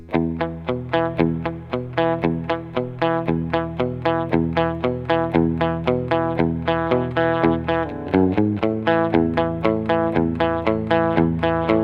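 A distorted electric guitar plays a verse riff, a steady, driving run of tight, rapid palm-muted chugs, repeating evenly throughout with no talking.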